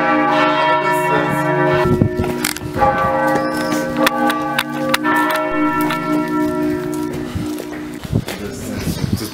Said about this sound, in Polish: Mają dzwonnicę i sobie z niej dzwonią